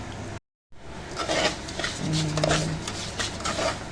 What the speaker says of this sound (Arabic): بحمر شويه الشعريه الاول وبعدين بحط الرز فيها